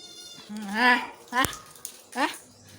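A cat meows nearby, three drawn-out, rising calls separated by short pauses, with a sharp click between the first and second.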